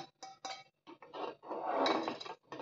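Fried almonds go into kheer in a pot, making a short run of metal clinks and scrapes from a spoon against the pot, several quick taps followed by a longer scraping stir.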